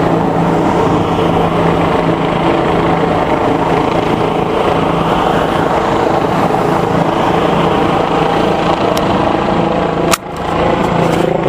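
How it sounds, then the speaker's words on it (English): Police helicopter flying overhead over Pittsburgh, a loud continuous rotor and engine drone that holds steady throughout, with a brief dip near the end. "Yeah, it's a police helicopter."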